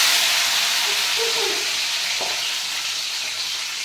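Jackfruit pieces fry in hot oil in a large pot, a steady close sizzle and hiss running evenly throughout with no talk over it.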